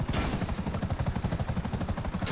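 Rotor chop of a helicopter lifting off in GTA V Online, a steady fast thudding pulse with a whining turbine hum, loud and close throughout.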